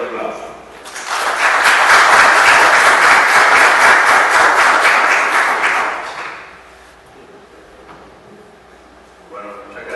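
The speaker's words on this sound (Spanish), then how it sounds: "lo recibimos con un fuerte aplauso" Audience welcoming a professor to a lecture on crime and the state: loud, dense applause swells for about five seconds, fades out, and a voice comes in at the end.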